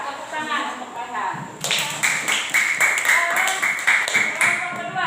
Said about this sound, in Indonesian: Tepuk tangan untuk Farhan.